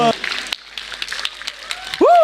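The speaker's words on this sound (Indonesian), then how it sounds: "Kita berikan tepuk tangan untuk" Brief applause from a live audience at a stand-up comedy show as comedian Abdur is introduced, a short burst of clapping framed by a voice at the start and a loud vocal outburst at the end.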